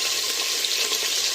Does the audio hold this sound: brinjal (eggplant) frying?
yes